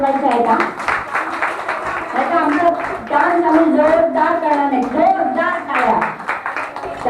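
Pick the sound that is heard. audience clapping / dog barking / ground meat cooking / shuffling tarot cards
audience clapping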